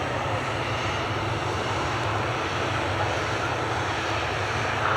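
An Egypt Air airliner passes near Manchester Airport, its jet engines giving off a steady, broad roar at moderate distance that holds evenly throughout, with no voices.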